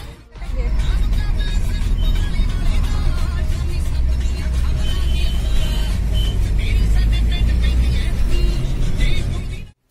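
A car on an evening drive from Panjab University to Pinjore hums steadily with engine and road noise, after a door-like start, while people talk inside the cabin.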